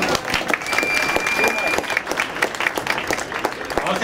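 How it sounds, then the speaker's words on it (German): Crowd at an outdoor street protest in Munich applauds, steady dense clapping lasting several seconds, fairly loud and close with occasional voices mixed in. "Applaus bitte."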